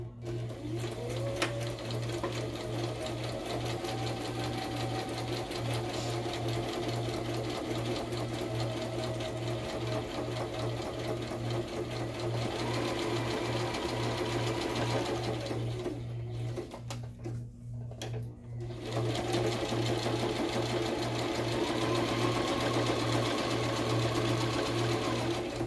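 A sewing machine stitches a pocket made from book pages, running steadily and close by with a constant mechanical whir, briefly pausing once before resuming.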